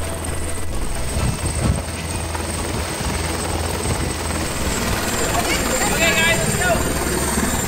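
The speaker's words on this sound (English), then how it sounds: "it was helicopter time. It came to pick us up" A helicopter flying over Niagara Falls: rotor thumps and engine whine close by, loud and continuous, while a person speaks briefly over the noise.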